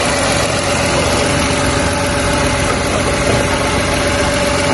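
A 1000 cc Renault car engine idles at a steady, even rumble, heard close and continuously for a few seconds with a faint whine running through it and no talking.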